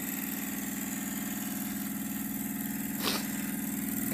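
A Jensen Model 65 toy steam engine runs with a steady, even mechanical chug and hum, close and continuous throughout, with a brief hiss partway through.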